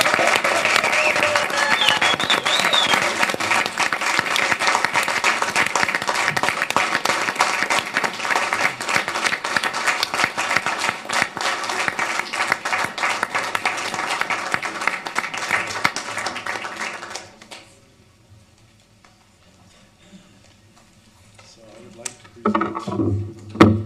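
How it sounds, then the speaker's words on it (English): Applause from the audience at a city council meeting, a dense, steady wash of many hands clapping for about seventeen seconds before it stops abruptly, followed by near silence and then some faint movement and voices. "If you could all provide a round of applause for Sarah."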